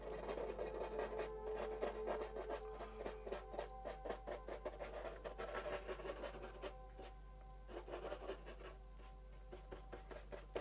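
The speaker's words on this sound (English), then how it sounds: "Now you can hear the texture on that board, that scraping." Paint scraping and rubbing across a textured painting board as a river, rock and old mill landscape is painted, a steady rasping scratch that repeats in short strokes close by, with no talking over it.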